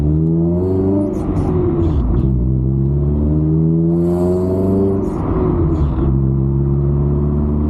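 A Honda CRX 1.6 four-cylinder engine (D16A9, twin cam, 16 valve) revs loudly and close, climbing in pitch twice with a rough, buzzy, somewhat fruity exhaust note, no talking over it.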